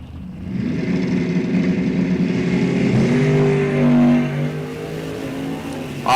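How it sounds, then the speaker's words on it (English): Two drag race cars, a '71 Chevelle and an '07 Mustang, launch side by side, engines revving hard and building into a loud, sustained roar that stays close and intense before easing slightly. "We got a drag race going on here"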